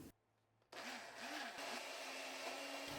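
An electric blender switches on after a brief quiet moment and whirs steadily and loudly, blending mango, Greek yogurt and honey for ice cream.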